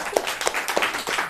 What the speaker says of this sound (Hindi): क्या बात है रे, ताली ताली।